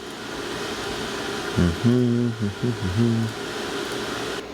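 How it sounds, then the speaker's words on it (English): A washing machine runs with a steady, low whirring drone in the background, and someone briefly speaks over it partway through. "The noise you are hearing in the background is my washing machine going."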